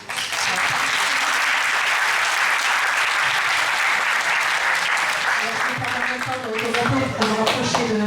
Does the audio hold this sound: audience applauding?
yes